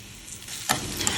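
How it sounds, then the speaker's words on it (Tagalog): Onion and garlic sautéing in hot cooking oil in a pan, a steady close sizzle that jumps louder partway through as the pan is stirred, with no voices. "Tapos nagisa lang ako ng sibuyas at ng bawang."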